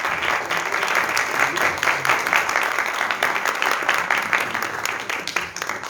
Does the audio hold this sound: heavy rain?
no